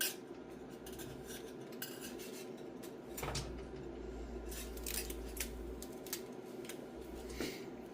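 Scissors snip through rope and hanging wire on a pulley in a workshop fitting a Farmall 450 water pump and tank filter, with faint scattered cuts and metallic clinks over a low background hum.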